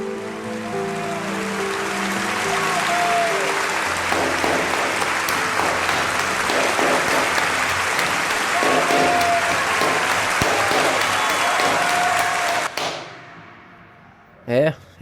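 Sustained, dense applause from a large audience honouring Charlie Chaplin at the Academy Awards ceremony, loud and unbroken for over twelve seconds before cutting off abruptly.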